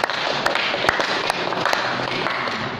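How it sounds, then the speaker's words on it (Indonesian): A church congregation claps for God after an offering, a dense spread of hands filling the space steadily for a few seconds at moderate loudness, with no voices standing out. "Boleh tepuk tangan buat Tuhan."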